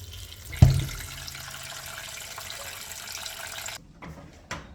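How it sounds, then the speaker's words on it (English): Water pours into a cooking pot in a home kitchen while making barbecue jerk pigtail, a steady close splashing fill after a brief thump at the start, then cutting off near the end. "Adding some water to the pot"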